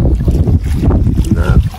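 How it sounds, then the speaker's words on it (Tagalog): Strong wind buffets the microphone aboard a small fishing boat at sea, a steady loud low rumble with gusting surges throughout. "Lakas na yung hangin."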